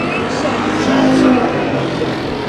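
Race cars roar around the dirt oval at Kern County Raceway Park during a heat race, a steady engine drone with passing swells under continuous track commentary.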